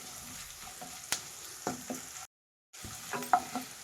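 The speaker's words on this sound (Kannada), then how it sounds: "ಇಷ್ಟು ಈರುಳ್ಳಿ ಫ್ರೈ ಆದರೆ ತುಂಬ ಫ್ರೈ ಮಾಡಿದ್ರೆ ಚೆನ್ನಾಗಿರಲ್ಲ" Salted onions fry in oil as seasoning for tempered leftover rice, giving a soft close sizzle with occasional spatula clicks and a brief silent break.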